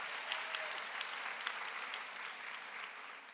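An audience at a mayor's Asian American and Pacific Islander Heritage Month celebration applauds with steady, dense clapping that fades slightly toward the end.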